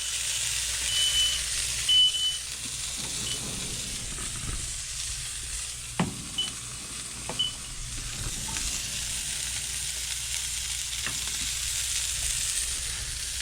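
Sausage patties sizzle and fry steadily in a hot pan just after being flipped, a constant close hiss with a few sharp clicks and scrapes of a utensil near the start.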